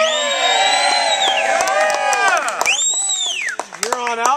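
A lively outdoor crowd at a street food event cheers and whoops loudly, with many overlapping shouts and high-pitched yells sustained throughout, plus some clapping.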